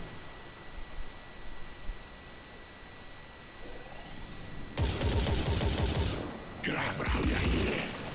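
Automated turrets firing in the turn-based video game Phoenix Point: after a quiet stretch, two loud bursts of rapid gunfire erupt with a mechanical clatter, the second shorter than the first.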